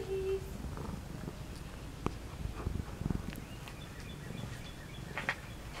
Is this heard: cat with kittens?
yes